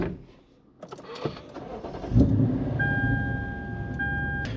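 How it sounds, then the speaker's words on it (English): A Lexus IS F fitted with an RR Racing intake and tune idles, then its engine swells into a loud, steady drone as it pulls away, with faint clicks and a thin electrical whine, and no talking. "just grabbing you some extra sound clips with the intake so you guys can see what it drives like"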